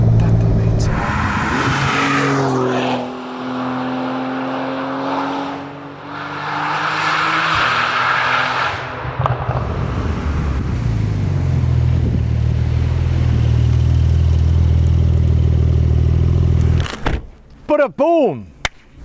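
A Techart GTstreet R supercar launches hard from a standstill, its engine climbing loudly through several quick gear changes before settling into a low, heavy drone, with a person speaking and short tyre chirps near the close.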